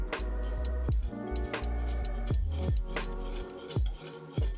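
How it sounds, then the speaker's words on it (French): A whisk mixes flour, icing sugar and brown sugar in a large bowl, its wires striking the sides in a steady run of bright rattling clinks, close and clear with no talk. "on va mettre la farine, le sucre glace et la cassonade. Et on mélange bien avec un fouet"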